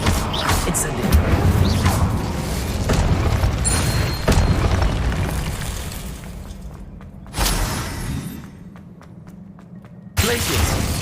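An Incendio fire spell is cast in a Harry Potter video game, producing loud rushing bursts and booming blasts that cut off abruptly, with quieter gaps between them.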